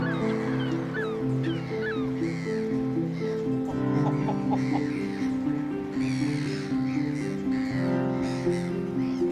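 Shag chicks huddle on a nest on the Isle of Man coast and call steadily. A mother seabird stands guard nearby, and high chirps and lower croaking notes blend into a continuous, close chorus.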